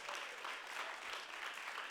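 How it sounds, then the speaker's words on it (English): Faint, steady applause from a Sunday worship congregation, a continuous even patter of many hands heard at a distance throughout. "Let's give an extra special round of applause for Allison and her team for all these awesome videos."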